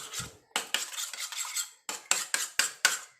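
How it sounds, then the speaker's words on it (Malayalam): Quick, repeated clinks and scrapes of a utensil whisking egg white in a bowl, in short energetic bursts with brief pauses, close up and without speech. "മുട്ടയുടെ വെള്ളം എടുത്തിട്ട് നല്ലപോലെ മിക്സ് ചെയ്തിട്ട്"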